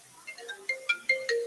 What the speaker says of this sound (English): While in the shower, her phone rings.